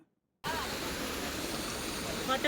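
The Seti river near Pokhara, Nepal, rushes in a steady, broad roar after a brief silent start, continuous and moderately loud.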